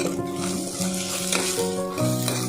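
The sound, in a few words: frying green chillies and peanuts in a pan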